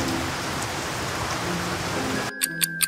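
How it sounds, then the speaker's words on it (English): Heavy rain pours steadily in a dense, hissing wash, then cuts off abruptly into a few sharp, separate taps. "Suddenly rain started to pour down on Marshall."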